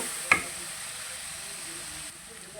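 Garlic and onions frying in a pan for spicy Bangladeshi chicken bhuna, a soft continuous sizzle and hiss after one brief clatter, heard faintly under a steady background.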